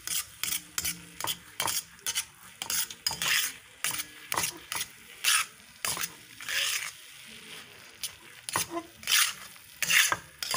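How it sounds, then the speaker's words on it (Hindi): Something is being stirred and fried in homemade desi ghee made from cow's milk, giving repeated scraping strokes with a light sizzle underneath. The strokes come in an uneven rhythm and sit close, with no talking. "देसी घी अपना बनाया हुआ रखा है ना, गाय का दूध का अपना बनाते हैं, तो बोला उसमें फ्राई कर लो"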